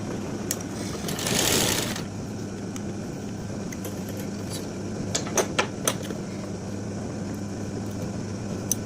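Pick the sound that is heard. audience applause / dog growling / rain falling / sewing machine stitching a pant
sewing machine stitching a pant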